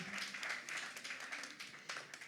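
Soft, continuous audience applause at the close of a panel on Greece as a digital nomad hub, distant and even, with a voice briefly rising above it.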